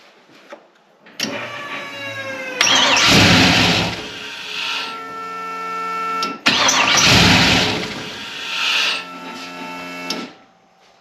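A turbocharged LS engine in a 1954 Chevy cranks and fires up twice, each start bursting into a loud, close roar that settles into a steady idle with whining accessory tones before cutting off.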